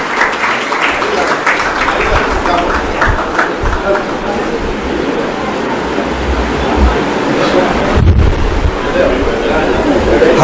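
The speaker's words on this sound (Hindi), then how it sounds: "तालियों के साथ आप सर का इस्तकबाल कीजिए" An audience applauds to welcome a guest at an event, a broad continuous wash of clapping that holds steady throughout, with voices mixed in underneath.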